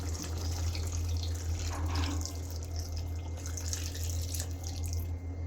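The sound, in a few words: pouring water for gravy into spicy beef curry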